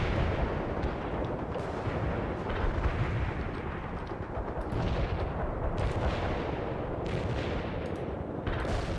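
An artillery barrage in the World in Conflict video game, a dense, continuous roar of overlapping booms and rapid gunfire that stays loud and unbroken throughout, with no voices over it.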